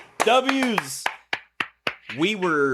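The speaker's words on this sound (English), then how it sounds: "Let's clap it up for Atlas Forged" Between loud voices on a gaming podcast about Bungie and Destiny, a handful of sharp, separate claps ring out, sparse and close rather than a full round of applause.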